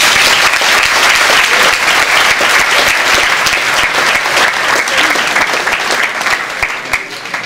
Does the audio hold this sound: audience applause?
yes